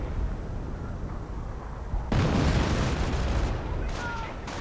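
Grenadiers come under fire in a real-time strategy video game battle. A dense, continuous rumble of gunfire and explosions swells sharply into a louder burst about two seconds in and keeps rolling.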